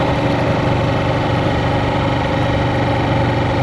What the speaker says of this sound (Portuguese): O barulho da moto é muito alto.